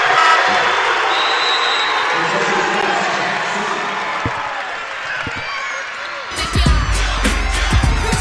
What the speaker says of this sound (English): Gay City crowd not happy with that call